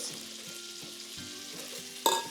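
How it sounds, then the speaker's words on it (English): Butter sizzles and crackles steadily in a hot pan nearby while being whisked, with a sharp clink of a utensil near the end. "You can hear that butter sizzling away now."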